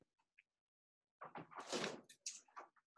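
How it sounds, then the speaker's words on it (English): A door opens nearby after a near-silent start, giving a cluster of clattering knocks and rubbing scrapes for almost two seconds, fairly close and moderately loud, with no talking. "I hear the door open."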